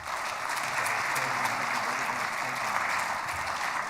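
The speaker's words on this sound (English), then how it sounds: "Feel free to clap as they come up." Audience at a technology award ceremony claps steadily as a winner heads to the stage, a full, sustained patter of many hands at an even level throughout.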